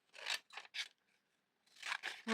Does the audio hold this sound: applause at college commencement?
no